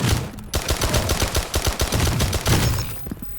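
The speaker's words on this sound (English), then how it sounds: "Who puts an SMG on semi-auto?" A submachine gun in a video game fires in rapid bursts of loud, close shots, a dense run of cracks with a brief break partway through, alone with no talk.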